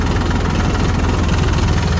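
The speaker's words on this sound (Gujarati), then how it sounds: "બીજા ગેરમાં ચાલુ છે ટ્રેક્ટર અને હાઇડ્રોલિકને આપણે બાંધી દીધી છે" A New Holland tractor, set up with a seed drill for sowing soybean, runs steadily in second gear with its hydraulics locked, producing a continuous low, throbbing engine drone close to the microphone with no talk.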